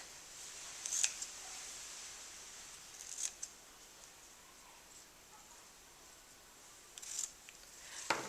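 Scissors cutting card during a card-making workshop, a few short crisp snips spaced apart over a quiet background, close and clear.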